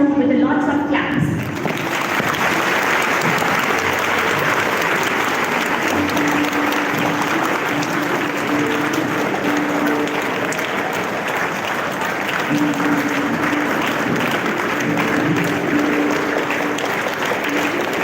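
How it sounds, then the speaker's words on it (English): Sustained applause from a large audience welcoming guests at a school event, a dense, even clapping that rises after a brief opening and holds steady at close range throughout. "Welcome them all with lots of claps."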